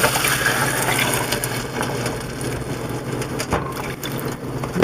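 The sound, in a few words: pouring white wine and water into a hot pan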